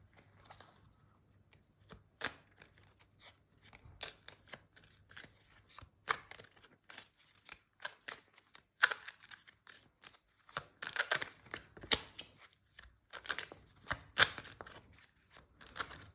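Tarot cards are shuffled quietly and close by, giving soft irregular riffling and flicking bursts with brief pauses between them, with no voice.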